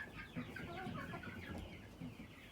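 Rooster and other fowl clucking and calling close by, with a dense overlapping run of short calls throughout and no clear full crow.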